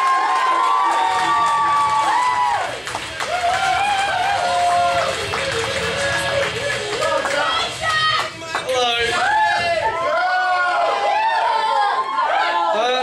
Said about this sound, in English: stamp your feet, clap your hands, and welcome to see Jack Yallop!